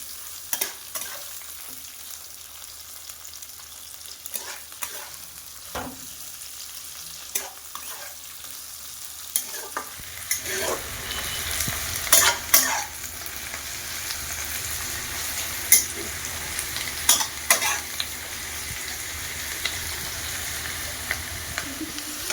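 Onions sizzle and fry steadily in a pan for a Bengali-style mutton curry with potatoes, a continuous crackle with occasional stirring scrapes that grows louder and busier partway through.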